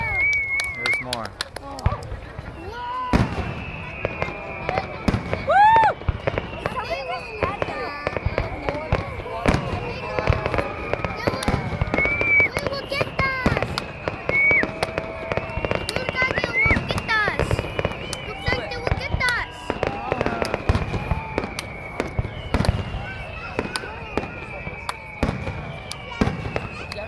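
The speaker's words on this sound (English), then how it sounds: "This is like the longest firework ever." Canada Day fireworks bursting outdoors in a long run of sharp cracks and pops with whistling rockets, moderately distant, while people chat and react throughout.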